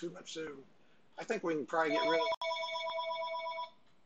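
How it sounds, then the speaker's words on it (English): Talk comes first, then a telephone rings with a bright electronic trill that holds for over a second, cuts out briefly and then rings again. "Sorry, the phone's ringing."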